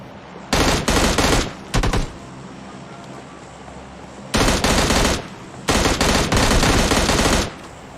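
Automatic M16 rifle fire in the mobile battle royale PUBG Mobile Lite comes in three loud sustained bursts, one short and two longer, separated by quiet gaps with faint ambient noise.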